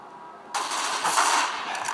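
A sudden burst of rapid gunfire in Counter-Strike: Global Offensive erupts and continues as a dense, loud rattling stream of shots, with no talking.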